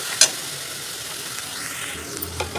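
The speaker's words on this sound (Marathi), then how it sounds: "टमाटर चांगला कच्चा असते तर मी अजून 1-2 मिनिटं परतून घेते." Tomato and onion sauté in a hot kadhai, giving a steady broadband sizzle throughout with a few faint clinks and scrapes, no voices.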